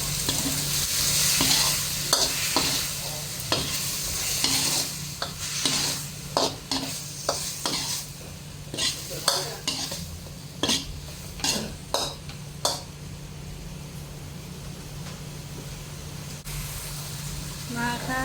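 Green beans stir-fried with oyster sauce sizzle steadily in a pan while a spatula scrapes and clinks in quick, uneven bursts, close up; someone speaks briefly near the start.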